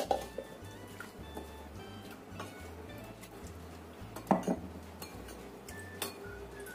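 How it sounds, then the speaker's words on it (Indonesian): A utensil stirs an eggplant mixture with stock powder and water in a pan, giving irregular light clinks and scrapes against the metal over a quiet background. "Kita aduk sampai rata."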